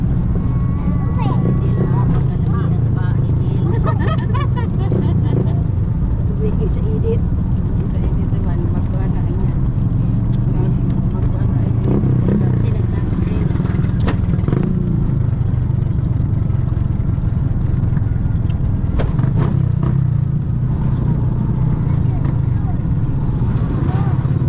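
Heavy motor traffic rumbles steadily on a road in the Philippines, with engines droning and occasionally revving as vehicles pass close by; people talk over the continuous noise throughout.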